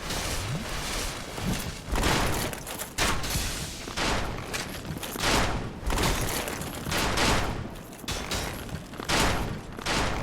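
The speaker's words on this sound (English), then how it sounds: "Can you stop shooting?" Arrows and projectiles fly at the player in Dark Souls, a rapid run of sharp impacts and bursts repeating every second or so at close range, loud and unbroken throughout.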